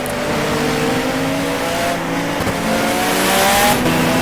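Race car in the rFactor sim, an S2000-style Honda field around it, engine droning and rising under throttle as the rear steps out in oversteer; steady, loud harmonic whine with faint tire noise throughout.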